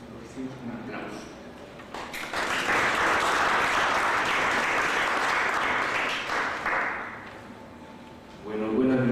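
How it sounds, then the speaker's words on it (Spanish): Audience at a literary memorial evening welcomes a speaker with applause: after a brief murmur a dense burst of clapping swells, holds steadily for several seconds, then tapers off as a voice begins speaking. "Lo recibimos con un aplauso."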